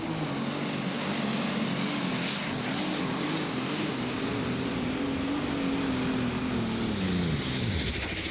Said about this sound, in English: it just tugs that one right down underneath the turbos till it loses boost and pulls that tractor to a stop